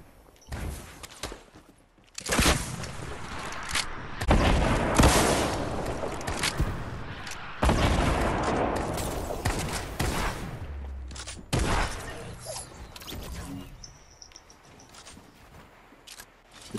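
Rocket launcher blasts and gunfire in a Fortnite match at a petrol station ring out in dense, loud bursts, with repeated explosions and rapid shots over a steady rumble that continues for the full stretch.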